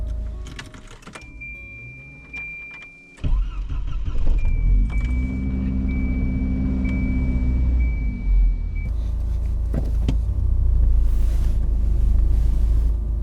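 A 1993 Volvo 240 wagon drives along snowy roads with a steady engine drone and wind rushing past the cabin. A sharp thump breaks in partway through, and a thin whine rides above the hum for several seconds.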